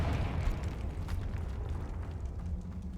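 In Hogwarts Legacy, a Confringo spell detonates with a loud, deep, rumbling blast that rolls on as a sustained low roar, close and heavy, with no speech over it.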